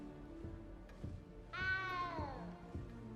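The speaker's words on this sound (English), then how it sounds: "That's a cat making the meow noise." A single drawn-out cat meow in the video game Hogwarts Legacy, rising then falling in pitch, over quiet game ambience with no talk.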